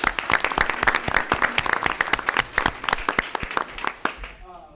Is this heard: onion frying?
no